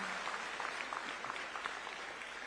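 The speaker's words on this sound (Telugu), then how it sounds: "గట్టిగా చప్పట్లు కొట్టి అభినందించండి" Audience applause at a public event, a faint steady patter of many hands clapping continuously throughout.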